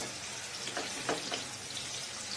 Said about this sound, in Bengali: তুলে নিয়ে ফুলকপিটা ভেজে নেব।